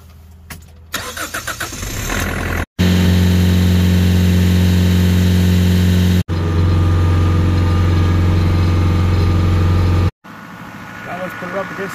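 Kubota LX20 series tractor engine heard from inside the quiet cab: a steady, loud mid-pitched engine hum running for several seconds, cut by short breaks, with quieter mechanical sounds at the start and end.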